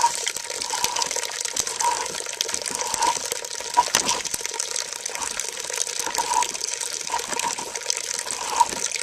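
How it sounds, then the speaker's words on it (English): Apple cider streams out of a hand cider press, a steady close trickle and splash of liquid with soft bubbling that continues evenly throughout, with no talking. "the press really does a good job of getting that cider right out of the apple"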